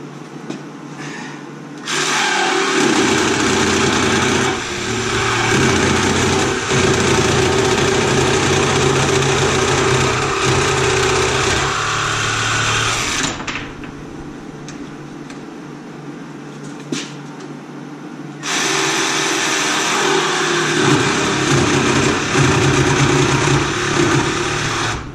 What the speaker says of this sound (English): Key to jigsaw, works like a charm.